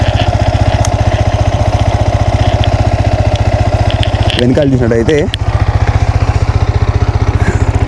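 A Yamaha XSR 155 motorcycle idles close by, its engine throbbing in a fast, even beat throughout, while someone talks over it and a brief rising whine cuts in midway.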